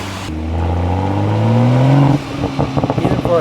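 A BMW M340i accelerating hard, engine and exhaust note climbing steadily in pitch for about two seconds, then a lift-off into crackling burbles and pops from the exhaust, loud and close, with a voice briefly audible.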